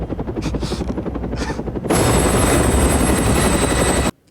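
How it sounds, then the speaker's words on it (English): Helicopter rotor chopping, a rhythmic beating thump that swells into a louder, brighter roar with a whine before cutting off abruptly, heard in a television drama scene. "Got that big chopper."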